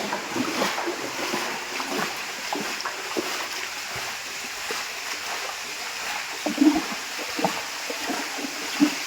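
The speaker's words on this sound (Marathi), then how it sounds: "तर पाणी काढून द्यायचं काम चालू आहे बाहेर पाणी चाललंय" Water is swept out across the floor of a poultry shed, making soft sloshing and splashing pushes over a low, steady background, with a few louder splashes near the end.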